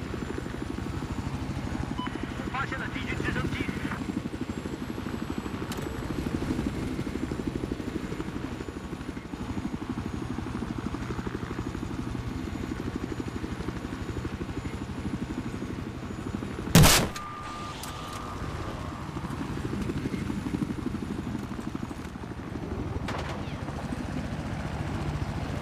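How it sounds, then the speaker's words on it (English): A helicopter flies in Battlefield 4 on the Shanghai map, a steady, loud rotor-and-engine drone running throughout, broken by one sharp, loud burst partway through. "I always choose a helicopter on this fucking map."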